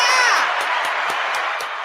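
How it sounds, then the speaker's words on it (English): A studio audience at a talk show claps and cheers, with a bright whoop fading into scattered clapping and crowd noise that continues at a moderate level. "Put your applause on."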